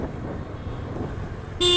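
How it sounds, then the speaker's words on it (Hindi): A single short, mild horn toot from a Yamaha scooter sounds near the end, after a stretch of quiet background noise. "हॉर्न भी इसका काफ़ी डिसेंट है, ज़्यादा लाउड नहीं है।"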